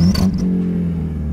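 A turbocharged 1.0 Fiat Palio engine revs loudly up close, a deep steady rumble with a brief high whistle at the start.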